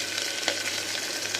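Whole spices, fennel seed, cinnamon and cloves, fry in groundnut oil in a pan with a continuous close sizzle and a few small pops, alone and without talk.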